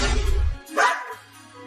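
Cartoon dogs bark: a short burst of loud barks followed by a higher yelp, then a low steady hum as the sound fades.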